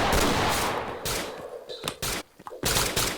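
Pistol gunshots in a Roblox first-person shooter, several loud sharp bursts in quick succession with short gaps between them, close and dense.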